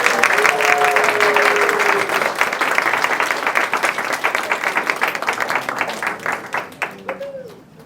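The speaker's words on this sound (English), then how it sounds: "Everybody give them a big round of applause." A room full of people applauds at a workshop recognition, loud continuous clapping that gradually thins into scattered separate claps and dies away, with a brief cheer near the start and a voice briefly over the tail.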